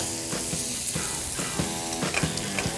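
Knobs of butter sizzle in a hot pan alongside a rack of herb-crusted lamb, a steady, close frying hiss with periodic scraping clicks as the butter is basted over the bones.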